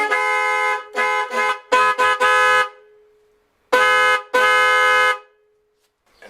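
Car horn tested after a repair, several short honks followed by two longer blasts, loud and close with brief silences between them.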